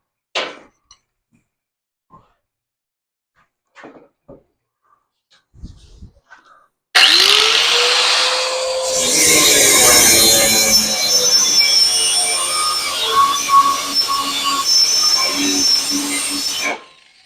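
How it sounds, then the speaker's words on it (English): An angle grinder bites into the metal of a Harbor Freight motorcycle lift, starting abruptly with a sweeping whine and then holding a loud, harsh, continuous grinding screech for about ten seconds after a few quiet clunks. "I need to get my angle grinder, and we're going to see what it'll do to it"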